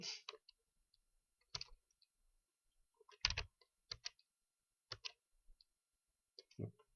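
Keys clatter on a computer keyboard as a short word is typed into Maya 2019 software: scattered quick clicks in small bursts, close and quiet in a silent room, without talk.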